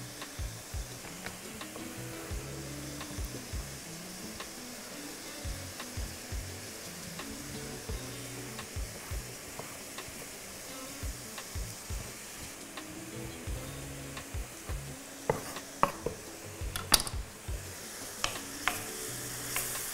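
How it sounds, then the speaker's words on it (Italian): A battuto of chopped prosciutto crudo browns in a pan, giving a steady, close sizzle and crackle with occasional stirring scrapes and brief louder spatters near the end, no voices. "qui il battuto deve rosolare bene"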